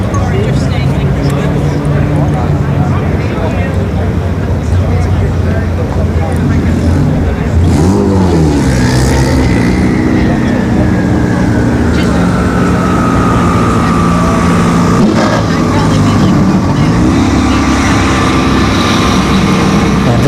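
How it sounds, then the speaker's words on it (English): A Kia Stinger GT with a twin-turbo V6 runs at a drag strip, its engine sweeping upward in pitch and then trailing off, set against steady crowd and track noise while people talk over it. "This is the Kia Stinger GT, so it is the V6 twin turbo."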